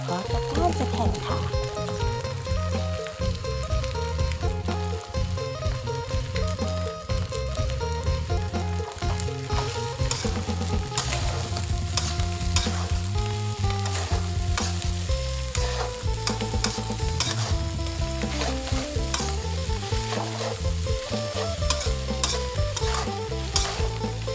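Chopped ingredients sizzle loudly in a frying pan while being stirred, with continuous crackling and scraping throughout as someone speaks over the cooking.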